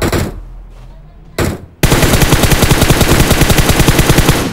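Rapid automatic gunfire in the battle-royale video game PUBG, a loud sustained burst of closely spaced shots after a brief quieter stretch with a short blast, steady and near.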